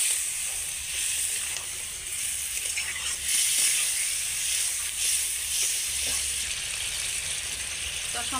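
Chopped tomato and spices sauté in a pan, giving a steady, moderate sizzle with occasional scraping and stirring sounds close by.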